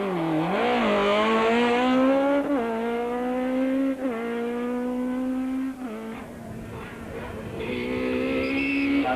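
A Ford rally car at full effort through a tricky hairpin where a dirt stage turns onto tarmac, its engine howling and rising through the revs, easing and climbing again as the driver fights it, loud and close with no talk.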